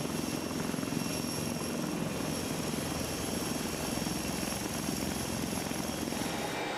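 A US or German attack helicopter's engine whines steadily under the dense, rhythmic chop of its rotors, loud and constant throughout with no voices.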